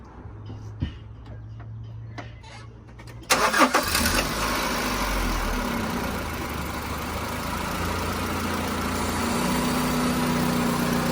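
A few clicks, then a 2001–2005 Honda Civic engine fitted with a short ram air intake cranks and catches, roaring up before settling into a steady, fairly loud idle that rises slightly near the end.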